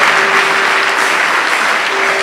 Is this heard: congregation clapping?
yes